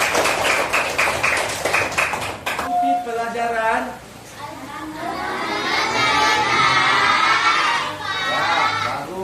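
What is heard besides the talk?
classroom applause from children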